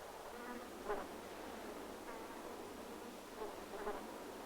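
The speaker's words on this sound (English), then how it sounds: "Its millions of tiny flowers attract large numbers of insects." A dense buzzing of flies and other insects swarming around the tiny flowers of a candelabra euphorbia on a savanna kopje, a steady drone with a few louder passes up close.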